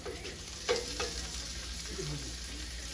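Beef with onions and tomato being chopped and stirred in a pan over low heat for a chopped beef sandwich, a faint sizzle with a couple of clear spatula knocks.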